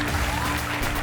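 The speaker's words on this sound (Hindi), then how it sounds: "मैं रिक्वेस्ट करती हूँ आप सभी से कि जोरदार तालियों से सभी पार्टिसिपेंट्स का प्रोत्साहन करें" Applause from the audience at a Hindi Bible quiz competition, greeting the participants before the results are announced: a dense, steady wash of clapping with a low hum underneath, held for about a second.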